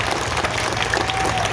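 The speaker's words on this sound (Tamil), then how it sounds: "இப்போ எல்லாரும் எவ்வளவு சத்தமாக கைத்தட்ட முடியுமோ அவ்வளோ சத்தமாக ஒரு வாட்டி கைத்தட்டுங்களேன்" A crowd at a public birthday rally in Tambaram claps loudly together, a dense, sustained wash of applause filling the short moment with no pause.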